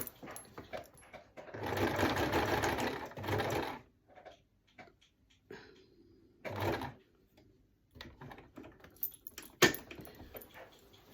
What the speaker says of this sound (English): So I'm literally just sewing around what I've drawn.